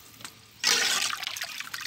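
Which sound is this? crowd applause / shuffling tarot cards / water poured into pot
water poured into pot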